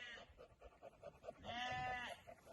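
Jacob sheep, rams and ewes, bleating, a quavering nasal bleat up close after soft pulsing breaths or short calls, with faint background noise.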